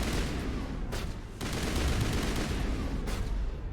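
Rapid automatic gunfire from a fast-shooting weapon in the Mass Effect video game, dense continuous bursts with brief pauses, loud and close, no talking.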